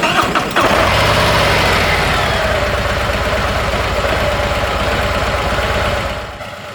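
A 2024 Harley-Davidson Road Glide motorcycle engine cranks briefly and fires up, then settles into a loud, steady, lumpy idle close by before fading slightly at the end.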